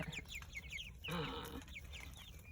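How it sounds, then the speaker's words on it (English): Young female ducks, about six weeks old, on a farm give quick high peeping and chattering calls in repeated bursts, fairly close and moderately loud, with a denser cluster of calls in the middle. "But I named the 4 female ducks the Golden Girls"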